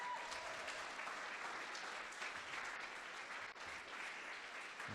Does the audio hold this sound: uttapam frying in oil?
no